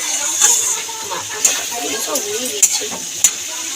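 Shrimp masala stir-fried in oil for a prawn malai curry, with a continuous close sizzle and several sharp spatula clinks against the pan at irregular intervals.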